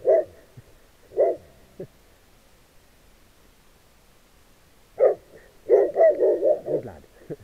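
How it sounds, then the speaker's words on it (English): A dog barks nearby outdoors by salmon water, giving a few single barks separated by pauses and then a quick burst of several in a row, loud and close. "Ah, doggy."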